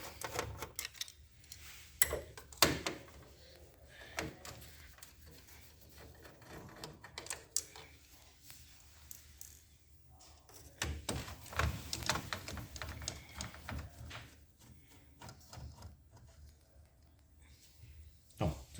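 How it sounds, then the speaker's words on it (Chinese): Three long flat-thread screws being unscrewed and removed from the main drive assembly of a paper-feed machine, giving irregular metallic clicks, taps and small rattles close by, with quieter stretches between bursts of handling. "那我们就这3个螺丝把它拆下来。"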